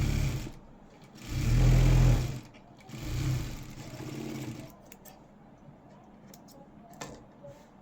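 A sewing machine stitches a blouse hem in two or three short runs, the longest and loudest near the start, with quieter handling noises between them.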